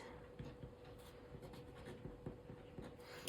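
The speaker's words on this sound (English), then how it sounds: "And I usually write on the back the date, December 4." Faint scratching of a pen writing a date on the back of a plant label during herb planting, a series of short quiet strokes close by.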